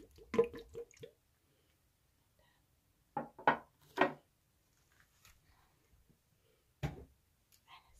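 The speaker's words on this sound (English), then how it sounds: "And then I'm gonna add some more water" Water added to a decorated old alcohol bottle in a few short, close, quiet splashes and drips, separated by near-silent pauses.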